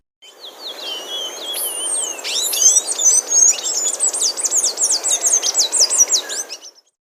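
A palm tanager sings a rapid series of high, thin chirps and squeaky notes, loud and close, running continuously over a soft background hiss.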